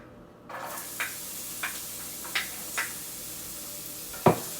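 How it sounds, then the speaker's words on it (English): Garlic dropped into an already hot pan while making a beef chuck rib stew, giving a steady faint sizzle with several soft stirring scrapes and one louder clatter near the end, no talking. "Since our pan is already hot, so we're gonna do the garlic first"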